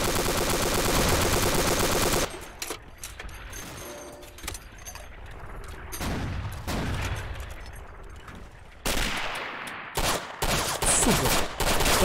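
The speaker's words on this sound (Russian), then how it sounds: "это чувак с пулеметом" A tank-mounted machine gun fires in the video game Mare Nostrum. A dense, continuous roar of gunfire gives way to scattered, sharp bursts and single shots, loud and close.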